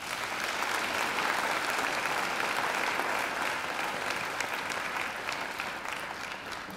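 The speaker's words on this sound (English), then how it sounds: "So I think they deserve a round of applause as well." A large audience claps at a university graduation ceremony, a dense, steady round of applause that fills the hall for several seconds before gradually easing off, with no voices over it.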